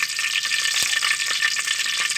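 Tempering seeds crackle and fry in hot oil in a pot, a steady close hiss with faint pops and a few soft stirring knocks throughout.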